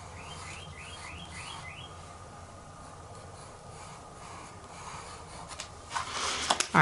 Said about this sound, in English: Since I hear the birds chirping outside my window.